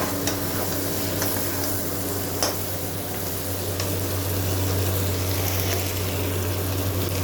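Tomatoes go into a frying chicken curry with potatoes and are stirred. A loud, steady sizzle of hot oil runs throughout, with occasional scrapes of the spoon against the pan, close up and with no talking.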